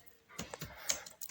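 Keys on a computer keyboard clatter in a short, uneven burst of several light, close clicks while a Windows 11 command prompt is used, with no voice over them.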